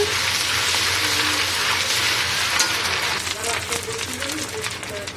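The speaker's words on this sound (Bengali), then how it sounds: "এখানে আমি আদা রসুন বাটা একসাথে মিক্স করা দিয়ে দিচ্ছি" Ginger-garlic paste frying with browned onions in a pot for khichuri, a steady, close, broadband sizzle and hiss running throughout, with a faint voice and soft tonal sounds in the background.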